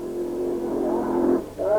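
A nitro-burning Corvette drag racer with a big Keith Black motor roars hard as it accelerates down a drag strip, a loud rising engine note that briefly dips and surges again.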